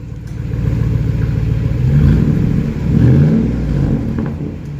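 A V8 truck exhaust revs up and down twice in a deep, rumbling burble, loud and close, with no talking.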